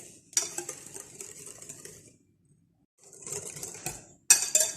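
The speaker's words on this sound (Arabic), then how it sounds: "نخلطوا بالباهي." Cake batter being mixed by hand in a bowl after a glass of oil is added, for Tunisian orange sponge cake: clinking, scraping utensil strokes in two bursts separated by a short pause, fairly close and with no talking.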